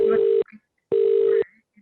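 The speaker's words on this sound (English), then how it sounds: "I'm trying to make a phone call." Two long steady electronic telephone tones, each about half a second, from a phone being dialled to place a call during an online museum and art gallery trust meeting, with a short gap between them and faint background murmurs.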